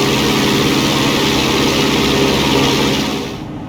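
A small propeller airplane drones loudly and steadily in flight during slow-flight and stall-recovery practice near Tacoma Narrows, the close engine hum holding even before easing off at the end.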